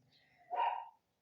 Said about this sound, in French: Je suis désolée pour les petits chiens.